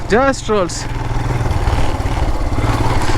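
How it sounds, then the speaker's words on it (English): A Royal Enfield Himalayan motorcycle ridden off-road through muddy forest trail: a steady, close engine thrum with a rhythmic low pulse, with a voice briefly heard over it at the start. "There is enough mud to give slippery to the rear tire, but still the vehicle just rolls."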